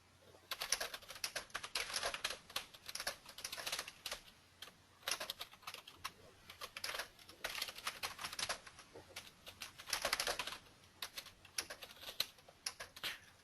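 Rapid, irregular bursts of computer keyboard typing, close and fairly loud, with brief pauses between flurries of keystrokes and no talking.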